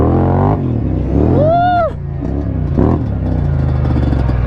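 Dirt bike engine revving hard during a wheelie, a loud harmonic whine rising and then falling over a thick low rumble, with shouting voices mixed in nearby.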